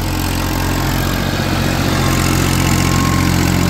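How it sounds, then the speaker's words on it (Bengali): An old second-hand tractor engine with about 4065 hours on it idles close by, a loud, steady, low throbbing drone with no break or talking. "তো এটা হচ্ছে ইঞ্জিনের বাস্তবতা সাউন্ড"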